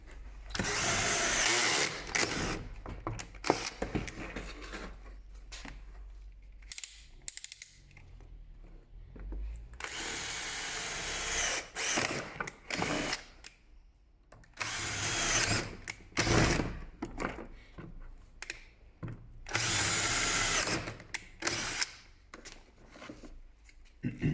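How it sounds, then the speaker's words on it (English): A power drill with a metal bit whirs in short bursts, stopping and starting repeatedly as it bores through plastic while installing a car brake light lowering kit, loud and close with quiet gaps between runs. "I'm using a metal drill bit. It basically goes through this plastic like butter."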